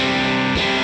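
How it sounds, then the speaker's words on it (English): A brief burst of heavily distorted electric guitar through an amp into a Universal Audio Ox, loud and buzzy with a sustained chord and a quick change near the end. "So now we're going to hear a little distortion."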